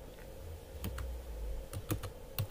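A computer keyboard clicks as a router command is entered in Packet Tracer, a few sparse, soft keystrokes that come singly and in a quick pair over a faint steady background hum.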